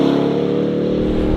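RAM TRX Final Edition pickup truck accelerating hard, a loud close engine roar with a steady rising drone and no talk over it.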